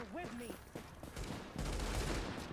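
Rapid bursts of gunfire in Tom Clancy's The Division, fairly faint and dense, growing heavier toward the end, with a voice and short tonal game sounds near the start.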